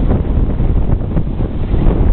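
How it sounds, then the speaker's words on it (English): Strong wind gusts batter the microphone at an outdoor wrestling event, a continuous low, rumbling roar that holds steady for about two seconds with no voices over it. "Very, very windy out here today."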